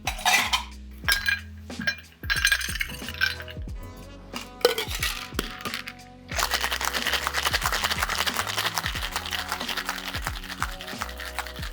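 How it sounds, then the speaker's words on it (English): Ice rattles inside a metal cocktail shaker while a grenadine cocktail is mixed: scattered clinks and knocks at first, then a loud, fast, continuous rhythmic clatter of shaking at close range. "Add ice and then shake for 10 to 12 seconds."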